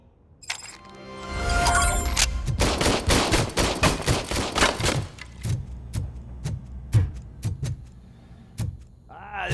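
Video game gunfire in RoboCop Rogue City: a dense burst of rapid shots at first, then slower single shots spaced out at an uneven rhythm, loud and close.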